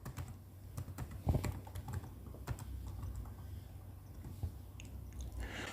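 Typing on a computer keyboard with irregular clicks and key taps, a few louder strokes early on, close and quiet with no speech.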